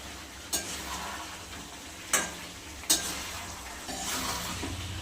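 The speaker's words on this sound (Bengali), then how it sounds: "আলুটা এবার মাংস আর মশলা দিয়ে একসাথে ভালো করে কষানো হবে" Chicken, potatoes and spices sauté together in a pan with a low steady frying hiss, broken by three sharp spatula knocks against the pan, and the sizzle rises slightly toward the end.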